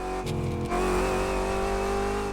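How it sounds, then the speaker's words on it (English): In a racing video game, a car with a manual transmission holds a steady high engine note with a thin gear whine running through it, loud and continuous, with a brief shift-like change early on and no voices. "I can hear this manual transmission whine. Yeah, like in 4th gear especially."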